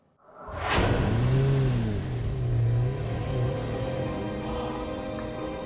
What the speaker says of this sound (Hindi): गाड़ी मत रोको, चलाते रहो